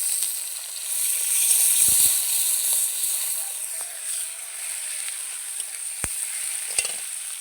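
Sliced onion and green chillies fry in hot oil with a steady, loud sizzle, a few soft stirring knocks near the start and sharp scrapes of the spatula later on.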